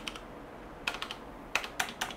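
Key clicks on a computer keyboard at a Linux kernel developer's workstation, coming in short irregular bursts of taps with pauses between them, close and fairly quiet, with no voices.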